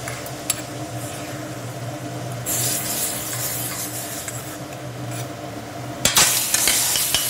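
Dried grapes sautéed in a pan for Diwali ladoos give off a steady close sizzle with scraping stir strokes throughout, growing louder and brighter in bursts partway through and again near the end.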